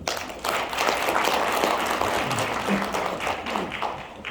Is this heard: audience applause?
yes